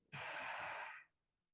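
A single deep, slow exhale of breath, close and loud, lasting about a second in a calm guided-breathing setting.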